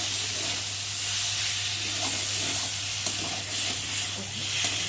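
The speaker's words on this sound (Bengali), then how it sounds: "আর এখন আমি নেড়ে দেবো" Tomato and spice mix stirred in a frying pan, a steady close sizzle with soft scraping strokes running throughout, no voices.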